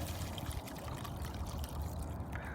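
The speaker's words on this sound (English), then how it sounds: "There's going to be a lot of seed in this pour." Thick tomato liquid full of seeds pours steadily from a container after mixing with a drill mixer, a continuous wet trickle and splash that runs unbroken and fairly quiet throughout.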